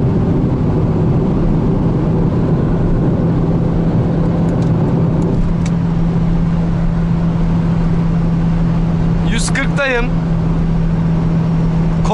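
A Fiat Palio car on the road builds speed, a steady engine drone under rushing road and wind noise, with a brief whooshing sweep near the end.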